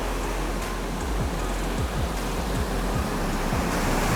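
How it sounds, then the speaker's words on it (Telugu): Night-time ocean surf on a Chennai beach, a constant loud roar of breaking waves pushed by strong wind, with repeated low thumps of wind buffeting the microphone and no talk. "నైట్ టైం కాబట్టి కొంచెం గాలి ఎక్కువ, సో అలలు కూడా ఎక్కువగా వస్తూ ఉంటాయి"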